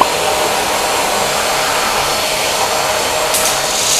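Small handheld vacuum cleaner with a single power button running steadily at close range, a continuous loud whirring hiss without pause or voices.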